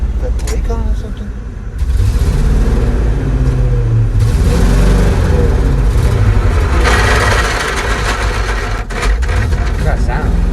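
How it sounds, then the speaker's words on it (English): Old three-ton grain and gravel truck with a grinding transmission catching gears as the clutch engages, a loud rough engine rumble rising and falling under people talking nearby. "That's the clutch. That's the transmission trying to catch gears."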